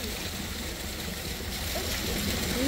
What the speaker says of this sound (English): Got a nice little waterfall just over there.